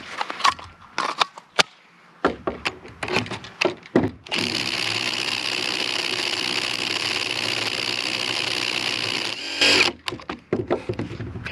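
A battery impact driver from Walmart whirs in one steady burst of about five seconds, framed by scattered clicks and handling knocks before and after, with no one talking.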